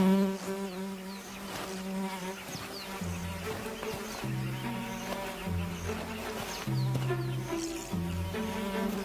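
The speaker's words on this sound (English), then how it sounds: "The Misfit is bothered by a tsetse fly." Tsetse fly buzzing steadily around a young lion in the wild, a close insect drone under a constant tonal music bed.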